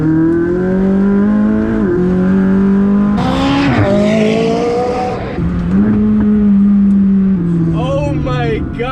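A DME-tuned McLaren 600LT sports car pulls hard in track mode, its loud engine revs climbing repeatedly through gear shifts, each rise broken by a brief dip before it surges again.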